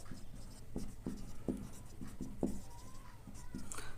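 Handwriting out a math solution, a quiet series of short pen or chalk strokes in an uneven rhythm, close and faint with a low steady hum behind, no talking.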